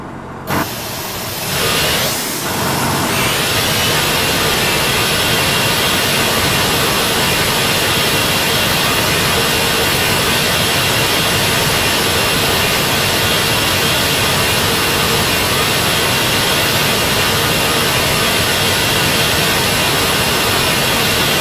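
Jet engine number 2 spooling up in Flight Simulator X, a steady loud broadband roar and whine that settles into a constant drone for the whole stretch.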